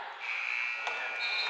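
End-of-quarter buzzer at a high school basketball game, a loud sustained electronic buzz lasting over a second, with gym crowd noise underneath.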